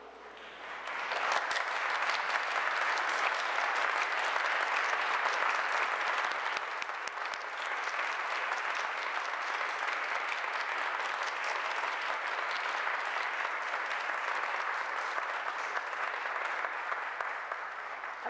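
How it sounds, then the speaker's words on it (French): A congregation at a mass marking an anniversary applauds its volunteers in a sustained, full round of clapping that fills the room, swelling quickly and holding steady for a long stretch. "ensemble, on peut les reconnaître par une bonne main d'applaudissements"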